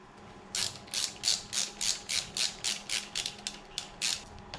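Rapid ratcheting clicks as bolts are tightened on a trolling motor mount, a steady run of about a dozen crisp mechanical bursts close by, with no talking.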